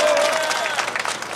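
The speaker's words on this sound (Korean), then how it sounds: "큰 박수 부탁드리겠습니다." A crowd at a memorial cultural event near a train station claps in a short burst of applause, with a voice talking over the start.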